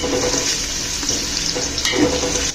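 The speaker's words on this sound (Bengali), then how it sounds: "গ্যাসের ফ্লেমটিকে পুরো হাই করে দিয়ে পেঁয়াজগুলোকে ভেজে নিতে হবে" Chopped onions fry on high flame in hot oil and ghee, giving a loud, dense, unbroken sizzle close up, with a brief faint stir near the end and no speech.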